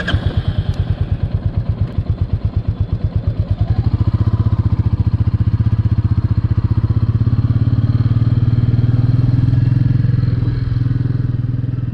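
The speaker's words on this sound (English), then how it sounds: "The Meteor 350 is powered by a 349cc single-cylinder engine." Royal Enfield Meteor 350 with a 349cc single-cylinder engine, thumping in an even rhythm that quickly builds into a steady, loud, close drone as the motorcycle gets under way and keeps riding.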